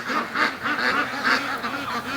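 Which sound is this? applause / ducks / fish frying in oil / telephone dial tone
ducks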